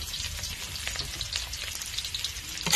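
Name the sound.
sautéing onion, garlic and ginger in a pan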